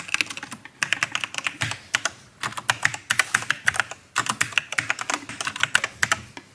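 Rapid bursts of keystrokes on a Knewkey Rymek typewriter-style mechanical keyboard with red switches, clicking in quick uneven runs with brief pauses between words, close and fairly loud, no voices.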